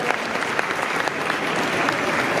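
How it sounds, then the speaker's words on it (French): Spectators at an equestrian fair applaud a horse during a clicker training demonstration, a steady wash of crowd clapping at moderate loudness with a few sharper individual claps standing out. "Vous pouvez l'applaudir."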